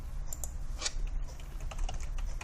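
Quick, light clicks of typing on a computer keyboard, an irregular run of keystrokes heard close and alone without any voices.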